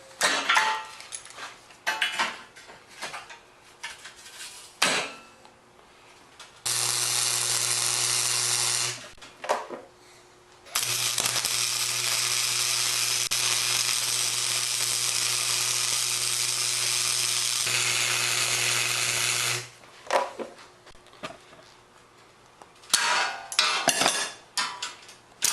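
Steel plates being welded on a boat trailer: long steady buzzing welding runs of several seconds each, loud and close, separated by shorter clanks and handling noises at the start and end.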